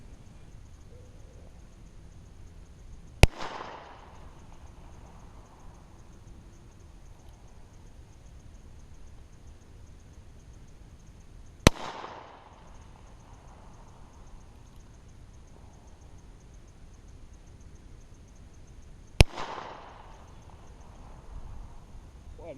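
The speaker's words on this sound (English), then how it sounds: "I'm gonna put the 22 LR in and see how that shoots." Three sharp .22 LR shots from a Heritage Rough Rider revolver ring out several seconds apart outdoors, each a loud crack followed by a brief echoing tail, with quiet ambient noise between them.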